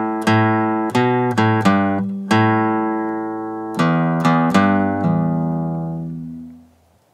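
Acoustic guitar picking the Old Joe Clark bluegrass melody, a few bright plucked phrases with short runs of notes that ring out and fade to silence at the end, played solo with no talk.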